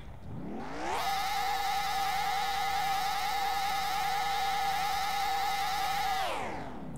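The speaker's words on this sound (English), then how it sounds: "we can literally rev it as high as it possibly can go" A race car engine in NASCAR Racing 2003 revs up from idle to its limit and holds a loud, steady, high-pitched scream for about five seconds before dropping back down, alone and close.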